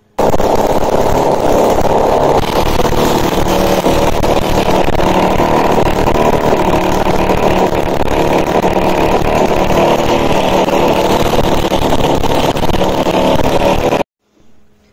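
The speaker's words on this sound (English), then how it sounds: "this piece is moving really slow even though the engine is running very fast" Homemade invention driven by a small DC motor, running continuously at high speed with a loud, even buzzing whir and rattle that holds steady before cutting off abruptly near the end.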